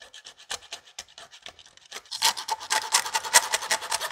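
An oil filter being cut in half by hand with a saw, rapid rasping strokes close by, sparse and light at first, then faster and louder.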